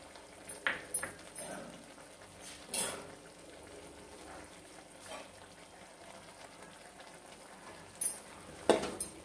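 Tamarind water is poured into a pan of brinjal kara kuzhambu cooking with avarakkai seeds, bringing a soft bubbling sizzle with a few sharper splashes and stirring clatters, quiet overall.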